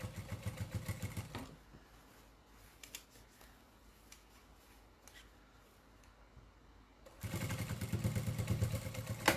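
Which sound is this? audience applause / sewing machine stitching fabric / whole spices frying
sewing machine stitching fabric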